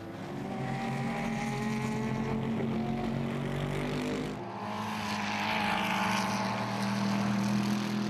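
Mercedes SLS AMG race cars at the 24 Hours of Barcelona give a steady engine roar with rising and falling revs. After a short dip in level, another car passes and the roar swells again.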